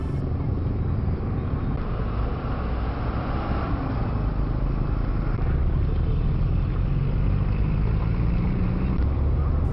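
Motorbikes and other vehicles cross bumpy railway tracks on a busy road, making a continuous loud roar of engines and traffic with little change in level and no clear individual jolts.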